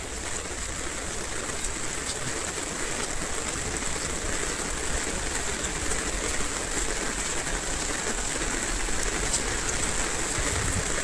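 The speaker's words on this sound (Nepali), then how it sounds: "आज त दिनभरि नै पानी पर्यो है, रुक्नेको नामै छैन यार।" Heavy rain falls steadily for a full day, a dense, even hiss of drops striking surfaces that stays at one level throughout with no speech.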